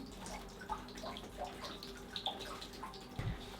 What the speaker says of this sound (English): I don't know if that water dripping is normal.